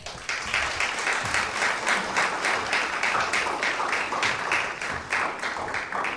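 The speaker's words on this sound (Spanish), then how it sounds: "Un aplauso a nuestro hermano" An audience claps for a visiting preacher at a church service, a dense, steady round of applause with individual claps audible throughout and no talking over it.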